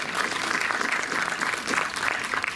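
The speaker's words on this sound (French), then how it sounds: "vous pouvez applaudir l'association" A cinema audience at the Méliès in Montreuil applauds steadily and loudly throughout, a dense wash of clapping hands with no pauses.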